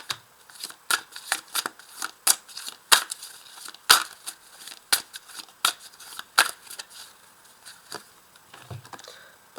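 Tarot cards being shuffled by hand, a steady run of crisp riffling snaps and soft flicks, close and fairly quiet, with no talking.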